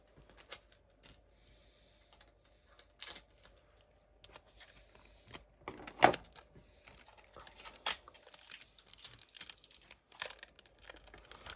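Adhesive tape being pulled and torn off a roll during a resin and wood ornament craft session, heard as a series of short crackling rips and crinkles, close and fairly quiet, spread unevenly.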